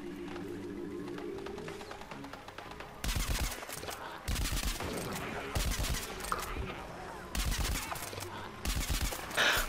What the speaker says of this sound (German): ich bin schon wieder unter Beschuss.